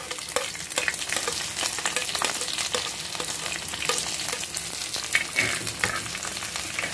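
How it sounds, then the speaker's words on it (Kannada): Mustard seeds popping in hot oil as curry leaves, dried red chilli, garlic and onion go in for soppina saaru tempering, a continuous close sizzle with sharp crackles scattered throughout. "ಸಾಸಿವೆ ಸಿಡಿತಾ ಇದೆ. ಕರಿಬೇವು, ಒಣಮೆಣಸಿನ್ಕಾಯಿ, ಬೆಳ್ಳುಳ್ಳಿ, ಈರುಳ್ಳಿ ಎಲ್ಲ ಹಾಕ್ತಾ ಇದ್ದೀನಿ"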